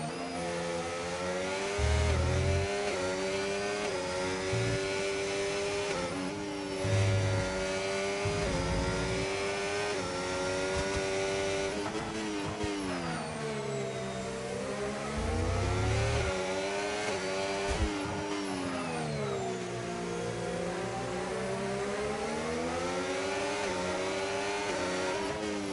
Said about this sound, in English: We'll let you lot listen to some F1 ASMR as we go through Expo's lap.